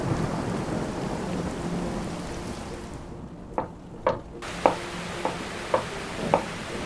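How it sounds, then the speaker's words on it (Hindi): Heavy rain pours steadily during a thunderstorm, with a deep rumble of thunder and a string of sharp, close cracks and drips punctuating the downpour toward the end. "कुछ दिन बाद तेज तूफान आया। खूब गरज चमक के साथ बारिश हुई।"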